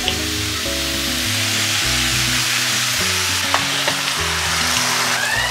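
Poppy seed paste cooking with bottle gourd greens in a pan, a steady close sizzle with stirring scrapes throughout, accompanied by low tonal background music and no talking.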